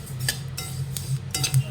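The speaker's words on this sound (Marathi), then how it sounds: "ती जेव्हा भाजली जाते तेव्हा असा आवाज येतो" Dry sesame seeds crackle and rattle as they dry-roast in a pan, a spoon scraping through them in a few brief bursts over a low, steady hum.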